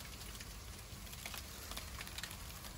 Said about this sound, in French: C'est la pluie qui commence à un petit peu reprendre le relais là.